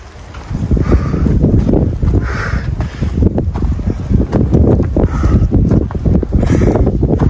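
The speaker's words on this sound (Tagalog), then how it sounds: "Blizzard. Snow malala. Snow." Howling blizzard wind on snowy Yushan (Mount Jade) roars steadily with gusts rising and falling, a dense, constant rush of noise with no voices.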